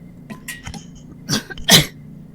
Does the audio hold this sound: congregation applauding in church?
no